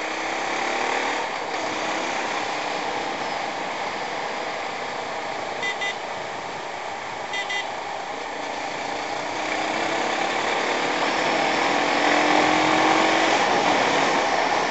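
A Yamaha MT-03 motorcycle engine drones steadily while riding, with wind noise over a constant hum that swells slightly toward the end, and no talking.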